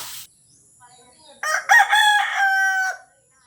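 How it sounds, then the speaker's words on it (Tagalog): A rooster crows once, loud and close, a long rising call that trails off into quiet. "Tumiraok uli ang manok."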